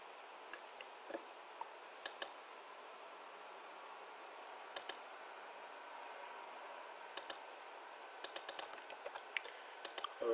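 Computer keyboard typing a password, faint scattered key clicks in small bursts and single taps over a quiet hissing room background.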